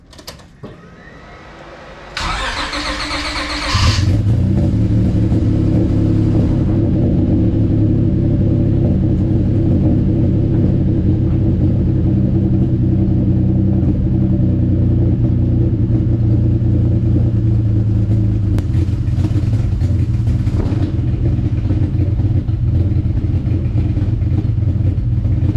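A Honda Civic V6 with its catalytic converters deleted cranks, fires up and settles into a loud, choppy idle, a deep steady rumble with a couple of brief revs partway through.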